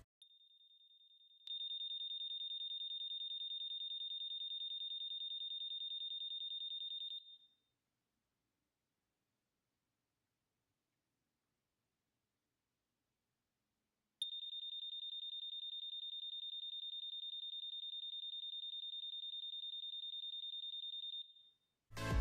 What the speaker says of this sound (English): Now I will test the siren.